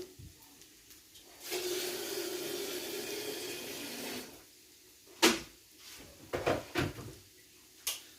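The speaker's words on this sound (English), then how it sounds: "I'm going to add a bit of hot water as well." Hot water runs from a tap for about three seconds in a steady rushing stream, followed by a few sharp knocks and clatters nearby.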